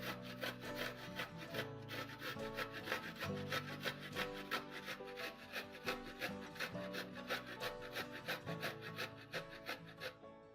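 Fresh ginger rubbed against a grater, making quick, steady rasping strokes that repeat close up throughout, with soft music underneath.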